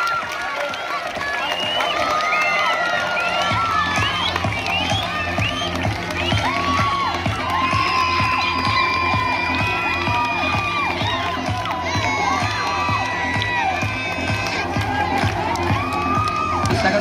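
Schoolchildren at a Sankranti celebration in a school cheer, shout and clap for rangoli competition prize winners, a loud, sustained crowd roar with excited high voices and clapping throughout.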